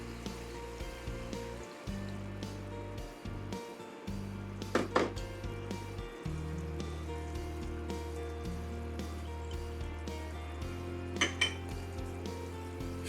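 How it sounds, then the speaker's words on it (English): Lemon zest and juice are stirred into a sizzling shrimp mixture in a pan. A steady fry hiss runs throughout, with soft utensil scrapes and two sharper clinks against the pan over a low hum. "Stir the zest and the lemon juice into the mixture"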